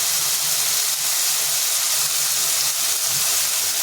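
Mustard-green chilli paste, turmeric, ripe and dry red chillies sizzle in hot oil: a steady, loud, close hiss that runs throughout with no pauses.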